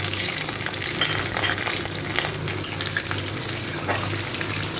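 Onion and chili sizzle and fry steadily in a hot pan, a dense continuous crackle at close range with faint stirring scrapes throughout, no voices.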